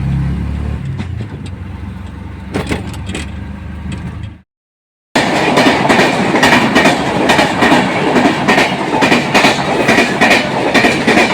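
Double-decker passenger train, number 12932, running on rails from Valsad to Borivali: loud, close interior rumble with rhythmic clickety-clack of wheels over rail joints, briefly cut to silence, then resuming louder and denser.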